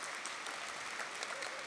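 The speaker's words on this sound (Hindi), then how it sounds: "हाँ ताली तो बजा दो" An audience at a spiritual talk on stage claps in a dense, continuous burst of applause, moderately distant and steady throughout.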